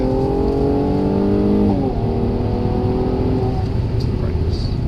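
A Mercedes car accelerating under throttle while being driven, a loud close engine note rising steadily in pitch before settling into a sustained drone.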